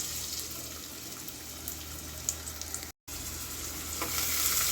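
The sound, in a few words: onions frying in hot oil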